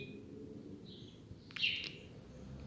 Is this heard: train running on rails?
no